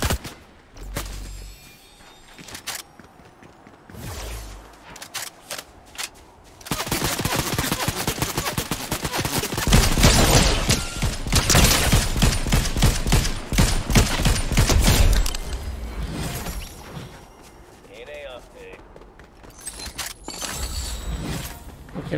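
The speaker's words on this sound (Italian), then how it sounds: "Oh, mi stanno sparando ragazzi." Sustained bursts of automatic gunfire and rapid shots in a Fortnite Star Wars match, including blaster rifle fire, loud and dense through the middle with scattered shots and impacts before and after.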